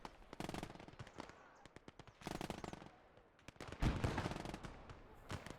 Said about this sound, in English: they get mowed down easily by my machine gunner